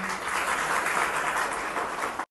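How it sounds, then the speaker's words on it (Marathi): An audience at a talk breaks into applause, a dense, steady clapping that fills the moment and then stops abruptly. "एकदा सर्वांसाठी टाळ्या वाजवा तुम्ही"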